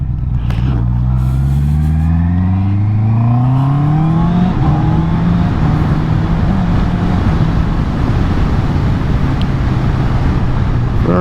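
A Honda CB650 E-Clutch motorcycle accelerates hard on a road near a motorway. The loud engine note climbs through successive gear changes, then settles into a steady drone with heavy wind rush.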